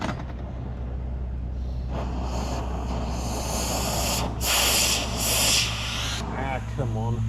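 Gas torch roaring steadily while heating a washer on a Case 490 disk harrow gang, a continuous broadband hiss that swells in bursts over a low engine hum, with brief talk near the end.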